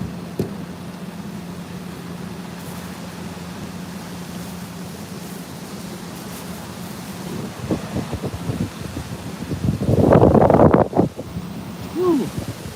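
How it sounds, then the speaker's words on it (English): Strong wind buffets the microphone outdoors during Hurricane Helene with a steady low rumble, swelling into a loud roaring gust near the end. "I need that wind to die down to light the bottle rocket a little bit."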